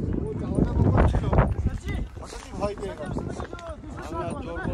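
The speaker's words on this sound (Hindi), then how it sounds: "भाई घोड़े रेस लगा के ले जा रहा है ये तो।" Horses racing along a mountain track near the Thajiwas Glacier in Sonmarg, Kashmir, their hooves clip-clopping in a quick, uneven rhythm under loud, continuous talk from people close by.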